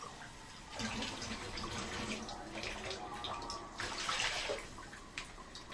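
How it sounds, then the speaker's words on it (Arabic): Water runs steadily into a pot over leftover fried onions while preparing Egyptian koshari, a soft continuous pour with light splashing, quiet and close. "هنحط الميه بقى على بواقي البصل عادي، علشان نحط العدس يتسلق"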